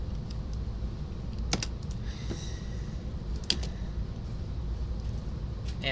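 Code is typed on a computer keyboard in short, uneven bursts of light key clicks with a couple of sharper taps, heard faintly over a low steady hum.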